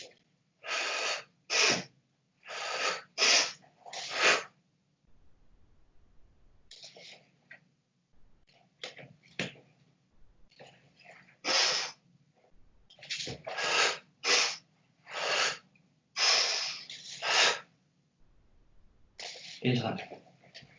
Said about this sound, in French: Je le fais avec la respiration sonore pour que vous entendiez